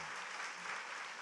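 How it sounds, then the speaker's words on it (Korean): Audience applause at a Korean talk show taping: a dense, steady wash of clapping filling the whole short moment. "박수 한번 좀 부탁드리겠습니다"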